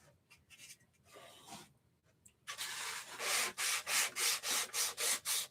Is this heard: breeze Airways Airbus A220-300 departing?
no